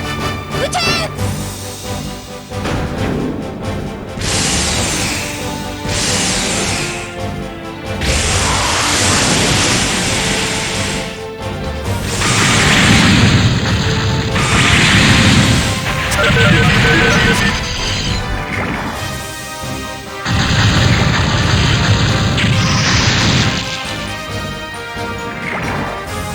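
A salvo of cannon fire and explosions erupts in a PS2 mecha battle game, loud dense bursts crashing one after another across the stretch with brief lulls, under game music and voiced dialogue.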